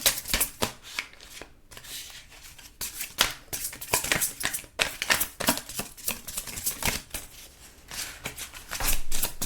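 Tarot cards are shuffled and handled close up in a quick irregular stream of crisp riffling, slapping and sliding bursts, with brief pauses and no talking.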